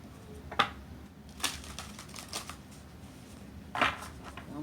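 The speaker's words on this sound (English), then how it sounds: "I think they just like to be shuffled." Tarot cards being shuffled by hand, a few crisp riffling bursts separated by quieter rustling and soft taps, close and fairly faint, with no talking.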